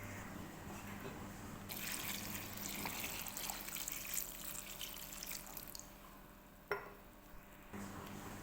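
Tap water runs into a bowl of grapes, a soft steady rush of filling liquid heard from fairly close and at low level, stopping and then briefly resuming, with faint room noise and no speech.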